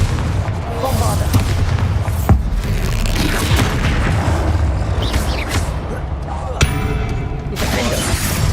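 Bombarda explosion spells blast in Hogwarts Legacy, loud booming detonations and shattering crashes recurring through dense combat noise, with a voice talking over the action.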